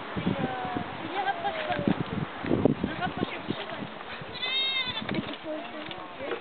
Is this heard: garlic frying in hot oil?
no